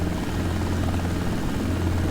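A helicopter's rotor and engine in a desktop flight sim during a running takeoff with the collective being raised, a loud, steady droning whir with a low rhythmic thump, continuous and unbroken, with no voices.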